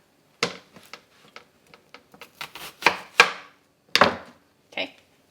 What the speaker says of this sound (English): we're gonna grab our onion and we're gonna cut it in half